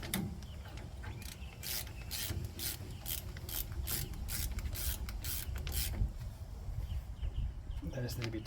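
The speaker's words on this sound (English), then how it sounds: "Tiny little bolts, hold it in the back. Wind them in to tighten them up." A ratchet tool winds in small bolts on the rear axle bracket of a 2005–2015 Toyota Hilux Vigo. A quick run of regular rasping clicks repeats steadily over a workshop background.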